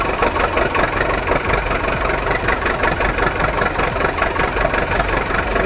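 A car engine runs steadily with a loud, rumbling idle and a slight knocking pulse, close up with no voices.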